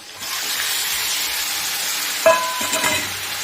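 Continuous sizzling of food frying in a pan, followed by a clunk of utensils and brief stirring scrapes.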